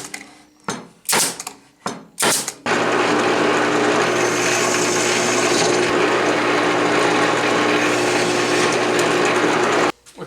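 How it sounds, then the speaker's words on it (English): A drill press boring holes in scrap wood: a few short clicks and bursts at first, then a loud, steady whirring grind that runs unbroken for several seconds before stopping. "take it over to the drill press and just drill all these holes"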